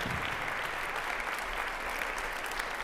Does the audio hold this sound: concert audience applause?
yes